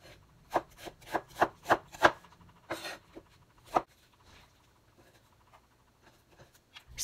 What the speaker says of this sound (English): Cut the onion in half and chop.